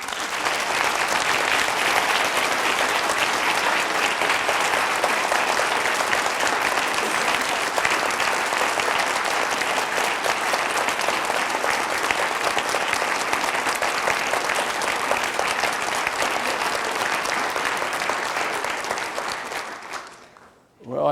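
Sustained, dense applause from a large audience at a mini medical school faculty session, steady and loud for about twenty seconds before cutting off abruptly.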